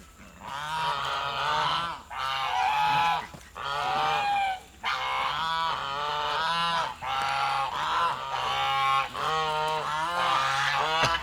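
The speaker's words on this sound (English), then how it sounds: "sorry if the geese are bothering you" Geese honk repeatedly in loud, close bursts, several birds calling over one another with short pauses between.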